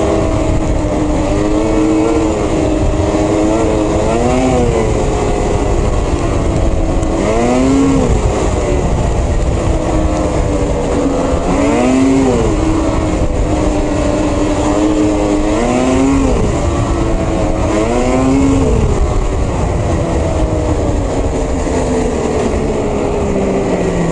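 A 2022 Lynx Rave RE snowmobile with an 850 E-TEC engine roars loudly and continuously while being ridden, its pitch climbing and dropping in repeated revving surges close up, with no talking.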